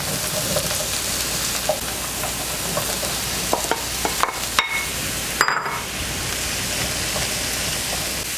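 Mushrooms and chopped shallot sauté in olive oil in a pan over medium-high heat, giving a steady, close sizzle with occasional stirring scrapes and clicks and no talking.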